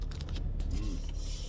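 Clicking, creaking mechanical noise from a faulty blend door actuator in a 2011 Lincoln MKZ, a rapid rattling tick that repeats steadily inside the cabin over low road or engine hum.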